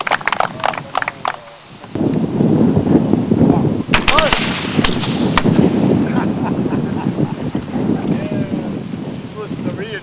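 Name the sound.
reenactors' musket volley, Civil War infantry company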